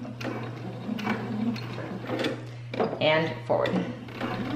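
A sewing machine runs short back-and-forth bursts to lock a stitch on a fabric bag, with mechanical whirring and clicking close by, while someone talks over it.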